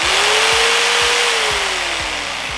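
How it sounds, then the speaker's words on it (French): A loud, steady jigsaw buzz with a rapid rhythmic chatter, cutting continuously through a solid Xiaomi M365 scooter tire at close range, with a pitch that slowly rises and falls. "La scie sauteuse."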